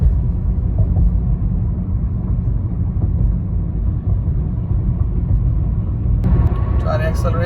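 A Honda car pulls away from a complete stop, a low, steady engine rumble and road drone heard from inside the cabin, with someone talking over it near the end.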